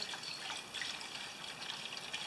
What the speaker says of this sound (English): I'm just going to add a tiny bit of gas here. Let it swish through.